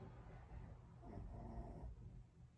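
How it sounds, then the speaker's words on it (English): A dog snores in low, rumbling breaths, rising and falling steadily through a quiet room with no one talking. "I can hear my dog snoring."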